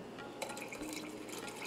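Water is poured from a jar into a pot of mixed lentils for dhaba-style dal tadka, making a soft, steady splashing trickle close by with no talking.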